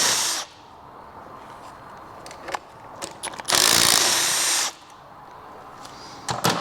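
Power tool zipping cylinder head bolts off a blown Vespa GTS 300 HPE engine during a teardown; two short whirring bursts frame a longer, louder high-pitched run in the middle, with faint clicks and tool handling between them.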